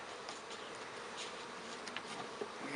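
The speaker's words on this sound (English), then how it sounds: "it helps the bees coordinate to their own hive" Honeybees buzz around a beehive in a dense, continuous hum with a few individual bees passing close. There is no talking.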